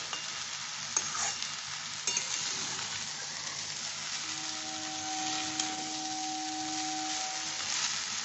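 Spatula stirring leftover rice together with fried egg in a hot pan, a steady soft sizzle with scraping stirs and a few light clinks, close and alone without talk.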